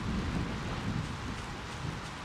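Steady rain hisses as a constant, even wash in the PS1 game Syphon Filter, a dense unbroken downpour with no voices or other events.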